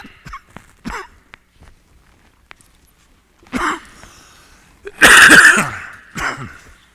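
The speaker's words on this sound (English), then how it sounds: "I might cough a little bit." A few scattered coughs and throat clearing, close to the microphone, ending in one loud harsh cough followed by a smaller one.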